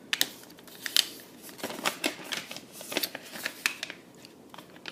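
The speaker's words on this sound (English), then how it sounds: "we're going to fold in half horizontally and" Origami paper is folded in half for a stellated octahedron gift box, with crisp crinkles, taps and sharp creasing snaps in an irregular run of close paper handling and no talking.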